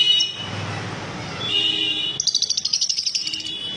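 Green Fischer's lovebirds chirp close by in a caged pair. Scattered high calls start out mixed with noise, then a rapid run of bright, evenly spaced chirps fills the last second and a half.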